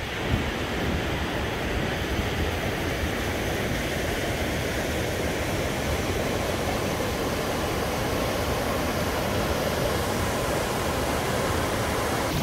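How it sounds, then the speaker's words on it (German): A small stream near a waterfall in Domodossola, Italy, rushes steadily with a dense, unbroken roar of flowing water that stays constant and close throughout, with no voices. "Das ist hier eigentlich nur dieser kleine Bach."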